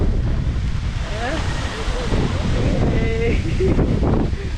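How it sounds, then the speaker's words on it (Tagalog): Strong, steady wind roars and buffets the microphone at a mountain campsite in Tanay, Rizal, with a few faint voices and whistling tones in the background. "bigla lumakas yung hangin"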